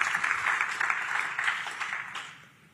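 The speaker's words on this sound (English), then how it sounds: "Give yourselves a big round of applause for coming." Audience applause at a business summit general session, a steady wash of many hands clapping that holds through most of the stretch and then tapers off quietly at the end.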